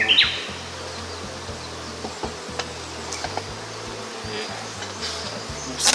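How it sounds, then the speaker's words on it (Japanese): Honeybees swarm around a hive during queen marking in spring, giving a dense, continuous buzzing hum close by with scattered faint chirps and ticks over it. "とにかく蜂が多い。"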